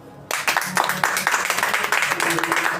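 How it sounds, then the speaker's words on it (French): Audience applause at a French-language talk on theology, dense clapping starting abruptly after a brief quiet moment and holding steady, with a voice faintly present under it. "La question est bien posée. Applaudissez."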